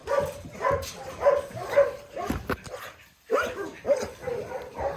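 Dogs bark repeatedly in short, sharp bursts, close by, with a few yips and whines mixed in.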